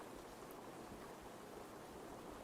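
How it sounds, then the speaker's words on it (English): Steady rain falls in a forest on a quiet evening, a soft, even hiss of drops with no other sounds standing out. "I love listening to the rain."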